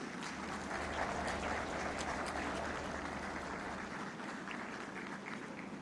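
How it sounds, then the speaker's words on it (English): Audience at a textile expo event in Karachi claps loudly and steadily for the prime minister of Pakistan, a dense sustained round of applause that holds for the whole stretch with no talk over it. "Mr. Mia Mohammad Shahbaz Sharif, to the stage to address this august gathering in your big round of applause."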